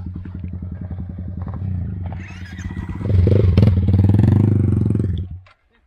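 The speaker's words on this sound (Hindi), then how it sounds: "ओके यहाँ से अभी बाइक को निकलेगा." Motorcycle engine idling then revving as the bike is ridden out from a remote village area, a steady near putter rising to a louder, rougher throttle before cutting off abruptly.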